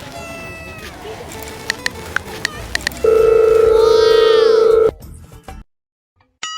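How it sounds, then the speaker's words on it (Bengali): A phone call is dialed: a string of short, sharp key beeps, then a loud, steady calling tone holds for about two seconds before cutting off into near silence. "দেখি দুই চোরের ফোন দিই।"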